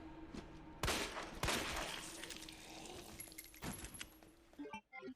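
Gunfire in the survival-horror game Resident Evil Remake, with several sharp, loud shots standing out over a busy background of game sounds and a steady hum, closing on a short burst of quick impacts.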